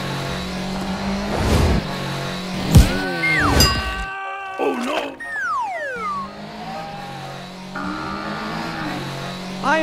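Cartoon race cars roar loudly, with revving engines, swooping zooms and brief tire squeals layered over a steady musical score.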